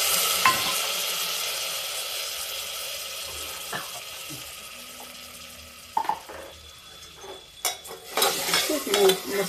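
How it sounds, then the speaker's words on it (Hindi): Spices frying in a pan for chana dal with pumpkin, with a faint steady sizzle and occasional utensil clinks, then louder stirring and scraping in the last seconds. "मसालों को हम थोड़ी देर भून लेंगे इसमें"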